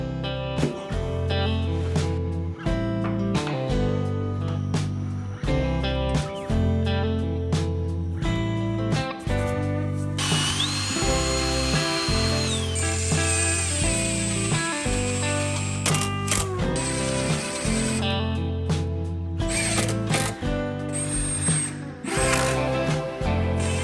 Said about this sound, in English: we did have to drill through our plywood, obviously with a pilot hole